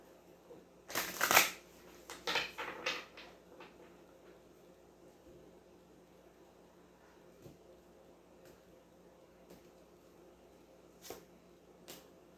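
Close, crisp riffle of a tarot deck being shuffled, two quick bursts of rapid card flutter near the start, then a few faint taps and near quiet.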